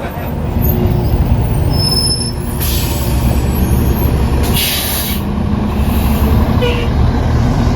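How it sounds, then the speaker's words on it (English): Large tour bus idling near a ticket counter at the Grand Canyon, a steady loud low engine rumble throughout with short hissing bursts of air brakes, while people talk nearby. "that's the bus which we'll take"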